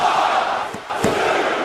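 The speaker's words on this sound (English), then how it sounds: "This crowd is loving this." Arena crowd in the WWE 2K wrestling game roars and cheers steadily, a loud continuous wall of voices with a brief dip and swell.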